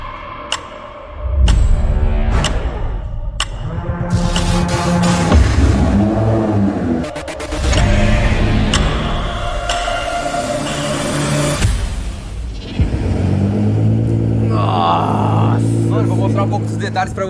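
A Liberty Walk widebody Nissan GT-R starts up with sharp cranking pops, then revs repeatedly, its loud engine surging and falling close by while people talk in the background.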